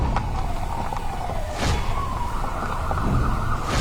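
Cartoon ambulance siren in a steady, slowly rising wail, loud and alone against a dense noisy background with no talking.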